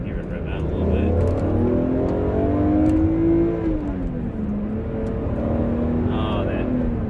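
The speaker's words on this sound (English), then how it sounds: "Hear it rev out a little bit." A BMW Z4 M Coupe's naturally aspirated straight-six revs up and settles in smooth, rising and falling sweeps, close and strong, with a person talking over it.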